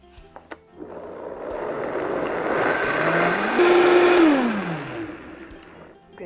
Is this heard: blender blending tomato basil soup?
yes